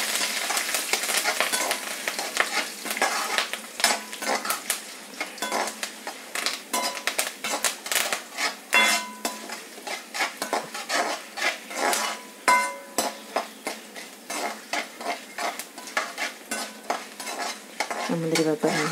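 Curry leaves fry and sizzle in hot oil in a pan while being stirred for rava pongal, with a repeated scraping and clinking of the spoon against the metal pan close up, and no talking.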